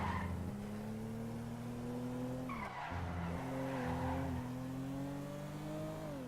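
Tires skid and squeal as a car in the GTA 5 video game runs over zombies, its engine droning steadily with a couple of pitch dips and rises between short scraping thuds, close and alone.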